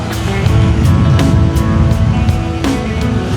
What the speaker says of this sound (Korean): 에어컨이랑 소나타가 히터가 정말 잘 나와요